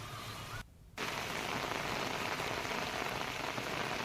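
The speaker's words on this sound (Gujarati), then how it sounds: "તો હાલ પણ ધોધમાર વરસાદ ચાલુ છે." Heavy, steady downpour in Gir Gadhada, Gir Somnath, with dense rain drumming on surfaces. It drops out for a moment, then comes back in full and continues unbroken.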